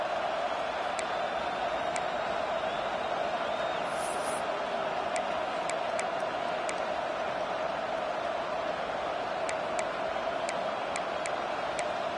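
Stadium crowd noise from a home crowd in the EA Sports College Football video game, a steady, loud, continuous roar with scattered ticking clicks and occasional whoops.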